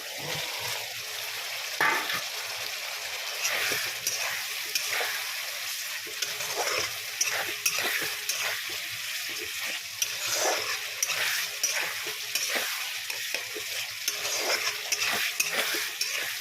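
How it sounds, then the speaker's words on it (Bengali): Fried potatoes are stirred and fried with spices in a pan, a soft continuous sizzle broken by repeated scraping strokes of a utensil, close but fairly quiet. "ভালো করে এটাকে ভেজে কষিয়ে নিতে হবে মশলার সাথে।"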